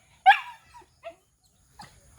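A dog gives a short yelping bark, followed by a couple of softer whimpering yips with quiet pauses between.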